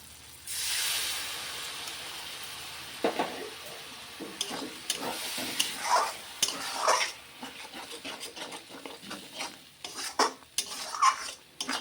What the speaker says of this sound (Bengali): ভালোভাবে ভেজে নেব, তেল না বার হওয়া পর্যন্ত